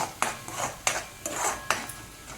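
A spoon scrapes and clanks against a pan as pav bhaji mixture is roasted and stirred in oil, four sharp metallic strokes at a steady rhythm, close and fairly quiet, with no talking.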